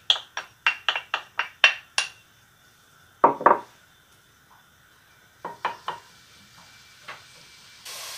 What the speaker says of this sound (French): On va y jeter notre ail lorsque l'huile est chaude, ce qui m'a l'air pas mal.